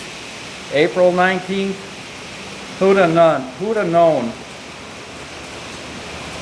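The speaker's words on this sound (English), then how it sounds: "If you can hear that right now, that's sleet." Sleet falls outdoors in April as a steady, broadband hiss that continues throughout the clip, with someone speaking over it in two short bursts.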